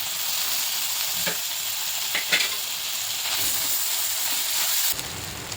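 Finely chopped tomato frying in a pan with onion for a mixed vegetable dish, a steady loud sizzle and hiss with a few light stirring scrapes and no talking.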